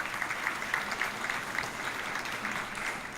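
Audience applause at a school foundation hall of fame induction banquet, a steady wash of many hands clapping, fairly faint and distant, with no talk over it.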